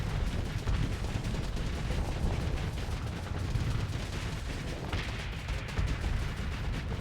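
Auto pulse weapon blasting away in the space combat game Starsector, a dense, continuous roar of rapid fire and impacts that barely lets up from start to finish.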